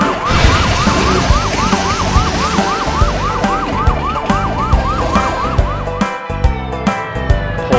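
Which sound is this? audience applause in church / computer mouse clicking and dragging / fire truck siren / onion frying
fire truck siren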